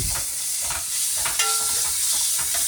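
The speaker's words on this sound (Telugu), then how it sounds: "బాగా ఫ్రై అయ్యాక జింజర్ గార్లిక్ కూడా బాగా వేపాలి" Onions with ginger and garlic fry in a pan, a steady close sizzle broken by short scraping stirs.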